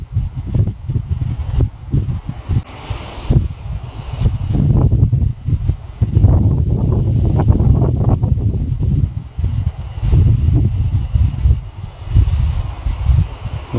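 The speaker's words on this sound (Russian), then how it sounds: "Ветер разыгрался не на шутку." Strong wind on a mountain summit in the Southern Urals buffeting the microphone in heavy, uneven gusts, with rustling through flowering lingonberry foliage and low rumbling throughout.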